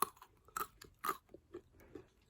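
Salted peanuts crunched between the teeth while eating, a few sharp, close bites and chews spaced unevenly over a couple of seconds in a quiet room.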